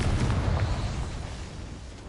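A Confringo spell in the Hogwarts Legacy video game goes off as a loud, low booming blast that rumbles at first and slowly fades across a couple of seconds, with no talking.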